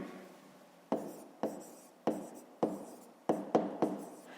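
A pen writes on paper in seven distinct scratchy strokes, each a sharp onset fading quickly, close and quiet, in an otherwise silent room.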